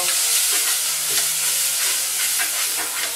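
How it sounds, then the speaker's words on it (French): Meat cooking with onions in a pan, a steady bright sizzle and crackle of frying close by, with faint stirring scrapes and no talking. "en même temps que ma viande elle est en train de cuire avec les oignons"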